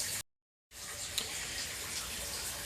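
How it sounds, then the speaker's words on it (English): Water steadily fills a newly built aquaponics fish tank pond inside a polytunnel, a continuous rushing gush after a brief silent gap, with faint splashes. "I'm slowly filling up the pond with water now"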